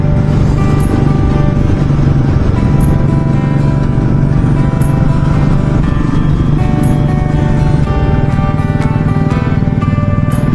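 A Royal Enfield Classic 350 motorcycle rides along a highway, its engine a steady loud drone with continuous road and wind rumble and no talk.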